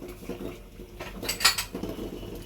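A metal lid is set onto a cooking pot of oats khichuri, giving a bright clanking clink near the middle among softer kitchen knocks, close by with no talking.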